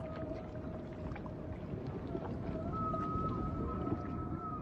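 Long, eerie humpback whale song drifts through a dense underwater rumble, tonal moans rising and holding at a moderate distance.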